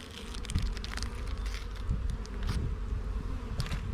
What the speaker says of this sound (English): Got about 5 frames of bees in here.